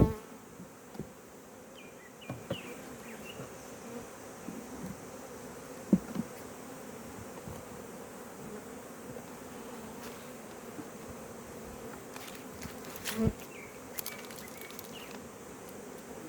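Honeybees buzz around a hive as they are fed pollen cake, a steady, faint drone of many wings with occasional louder passes and light handling bumps nearby.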